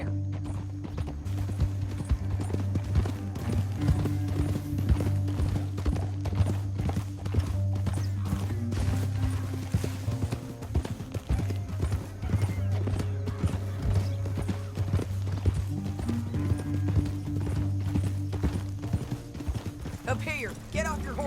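Horses gallop through a canyon in the Western game Red Dead Redemption 2, their steady clip-clop hoofbeats running the whole way under a loud, continuous bed of music, with a brief whinny.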